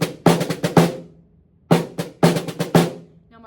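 Snare drum plays an accented pattern of quick taps and strokes in two short bursts with a pause between, crisp and close with a slight ring after each hit.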